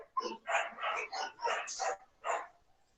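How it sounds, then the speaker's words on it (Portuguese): Several dogs bark in quick, overlapping bursts, close and sharp, with a short pause before a final bark. "Tá dando pra ouvir bem, né? Eles latindo."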